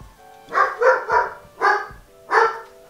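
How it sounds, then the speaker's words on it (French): A dog barks five times in a steady, fairly loud run of sharp, harmonic barks with brief gaps between them, heard on its own with no talk over it. "Pardon pour le chien."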